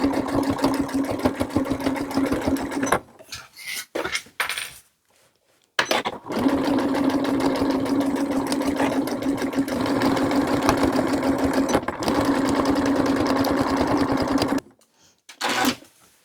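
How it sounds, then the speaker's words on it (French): A sewing machine stitching around the hood of a beach poncho for a 6–12 month old baby, giving long runs of rapid, steady mechanical chatter broken by short quiet pauses. "je pique le tour de ma capuche en faisant bien attention que le tissu soit bien positionné"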